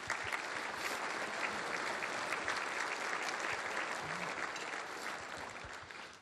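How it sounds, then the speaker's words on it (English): An audience at an economic forecast keynote breakfast fills the room with sustained applause, a steady wash of many hands clapping that fades slightly at the very end. "let's get a round of applause for these folks here today"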